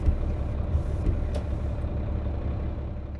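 Truck engine from an SCS International 9900 Eagle in American Truck Simulator: a steady, low diesel rumble, droning continuously with no talk over it.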